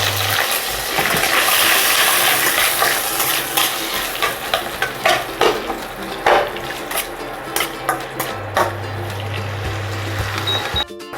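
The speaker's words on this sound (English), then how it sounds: "fry it for 2 minutes on low flame." Sliced onions for papad veg rolls sizzle and fry in a pan on low flame, with steady crackling and repeated stirring clatter of a utensil against the pan, close and fairly loud throughout.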